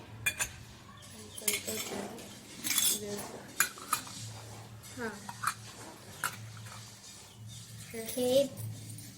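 A small plate clinks onto a toy kitchen set pan as a lid, several light metallic clinks and scrapes of miniature cookware heard up close, with a voice talking softly over them.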